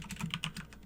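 Commands are typed on a computer keyboard while configuring a Cisco CSR1 router, giving a steady run of close, crisp key clicks with no voices.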